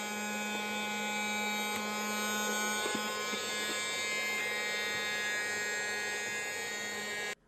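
A small vacuum cleaner motor whirs with a steady high-pitched buzz, running continuously before cutting off abruptly at the end.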